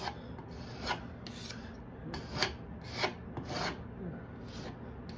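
A filler knife scrapes filler into a nail hole in a wall, a series of short, close rasping strokes spaced irregularly, each a quick scratchy pass, with quiet room background between them.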